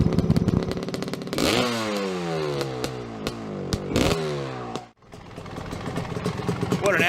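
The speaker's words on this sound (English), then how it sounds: "Listen to this beast, the Italian stallion, the boss, the Cagiva 500, the biggest 2-stroke" A Cagiva 500 two-stroke dirt bike engine revs hard nearby, rising and falling in repeated blips with crackling exhaust and a sharp cut-off midway, someone talking over parts of it.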